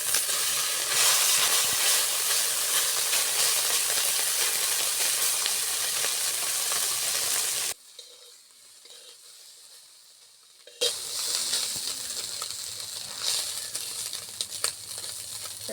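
Fish sizzling in oil in a wok after being flipped, a loud continuous hiss and crackle that dips briefly to near quiet, then returns strongly.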